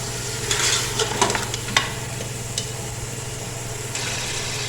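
Korma meat sizzling with ginger and garlic in a pan while being stirred, a steady frying hiss with scraping spoon strokes and clatter near the start, close with a low background hum.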